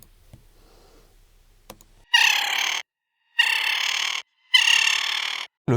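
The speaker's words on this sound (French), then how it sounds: "c'est en premier lieu un son de petite perruche, qui fait quand même 20 cm de haut, qui est ralenti et passé à l'envers." A small parakeet's call, slowed down and played in reverse, sounds as three loud, drawn-out tonal bursts separated by short silences, each lasting just under a second, with a single faint click before them.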